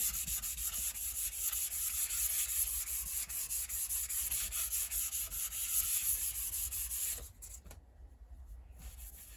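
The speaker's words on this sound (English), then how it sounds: "Now I take some 400 grit paper and just lightly sand it down." Wood on a router-inlaid humidor lightly sanded by hand with 400 grit paper, a continuous close, soft rasping rub in quick back-and-forth strokes that thins and stops near the end.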